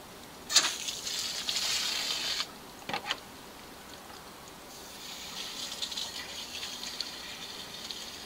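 Water rushes into an RV water heater tank during a flush, a loud gushing burst for about two seconds, a brief splash, then a steadier, fainter hiss of flowing water.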